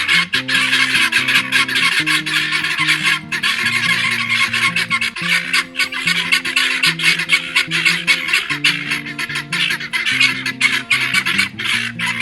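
A flock of guinea fowl calling loudly and continuously, harsh repetitive cries overlapping into a dense, relentless chorus close by.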